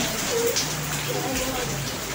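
Rain falls steadily outdoors during a motorcycle brake and shock absorber service, a soft continuous patter of drops on surfaces under a faint hiss, with no clear talk over it.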